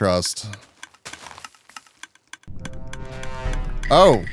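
Rapid keyboard typing clicks on a computer keyboard come in scattered bursts, close and fairly crisp, with voices and other noise around them.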